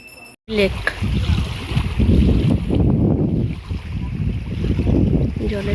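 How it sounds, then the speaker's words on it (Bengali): Water splashes and laps against a rowing boat out on the water, a steady rushing wash with wind noise buffeting the microphone, close and fairly loud throughout. "ছলাক ছলাক শব্দ"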